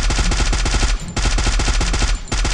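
Rapid automatic gunfire from a shooter video game, two fast sustained bursts split by a brief pause, loud and close with no talking over it.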